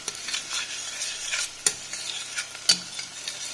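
Finely chopped shallots sweat in a pan over medium heat, giving a soft continuous sizzle with light stirring scrapes and two sharp utensil knocks against the pan, close up and with no voices.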